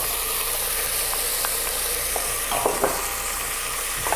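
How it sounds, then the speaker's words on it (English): A spoon stirring chopped parsley through a hot pan while cooking pulses and beans, with occasional scraping strokes over a steady, close sizzle from the pan. "I'm going to quickly add in some parsley, give it a quick stir, and add my beans"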